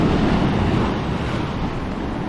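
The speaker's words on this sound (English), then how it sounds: "take a look at some of the waves coming in here." Ocean waves wash in over slippery rocks at low tide at a salt pond on the coast, making a loud, continuous rushing surf roar mixed with wind buffeting the microphone.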